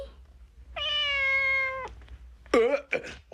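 A cat gives one long, steady meow, followed by two shorter meows a moment later, all close and clear over a quiet low background hum in a 1987 sci-fi anime.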